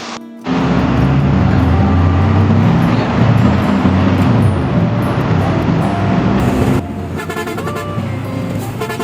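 A Hino 1J bus on the Dhaka to Barishal road runs with a loud, steady engine roar and road noise that hardly changes, then drops to a quieter drone near the end.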